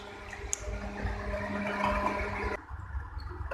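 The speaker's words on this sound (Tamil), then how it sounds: "இப்போ நம்ம சிக்கன் வேகிறதுக்கு தேவையான அளவுக்கு தண்ணி விட்டுக்கலாம்." About half a cup of water is poured into chicken frying in a pan for a home-style Tamil chicken varuval, a steady close splashing and sizzling that stops abruptly partway through.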